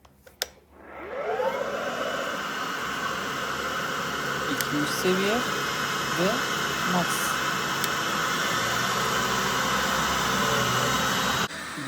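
A Miele Triflex HX1 cordless stick vacuum cleaner starts up with a rising whine and then runs at a steady loud whir, its speed stepped up partway through while a person speaks over it.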